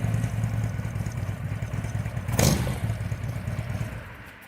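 A Harley motorcycle engine idles while running in reverse at a custom cycle shop, a low, steady, uneven chug with a brief clatter midway before the sound tapers off.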